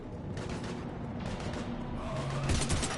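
Gunfire erupts in a Mass Effect 3 battle, bursts of shots and booms cracking in clusters over a dense background of combat noise, moderately loud.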